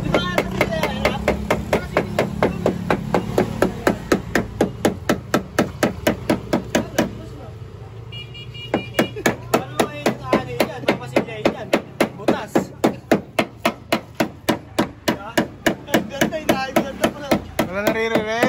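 Rapid, steady hammering in a workshop, sharp strikes repeating about twice a second for most of the stretch with a brief pause midway, loud and close over faint room noise.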